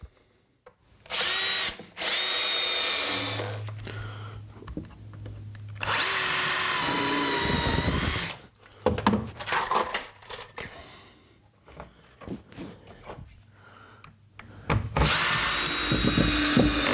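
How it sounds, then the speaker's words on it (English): Power drill driving screws into a wooden chicken coop, several loud whirring bursts of a few seconds each separated by pauses, with clatter and handling noises between them. "So I'll just screw these in place."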